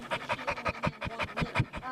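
A dog pants rapidly and steadily up close, quick rhythmic breaths repeating without pause.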